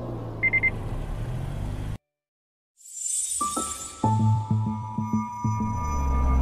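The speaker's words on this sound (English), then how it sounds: "the system notifies you with warning beeps and flashing warning lights in the side mirrors" A Mazda blind spot monitoring system sounds a series of sharp, evenly spaced warning beeps inside the car, clear and close over a low engine and road hum.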